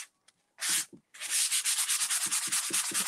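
Sandpaper rubs over a freshly painted bathroom cabinet, the paint not fully dry: a couple of short scrapes, then a steady run of quick back-and-forth strokes, close and clear with no talk.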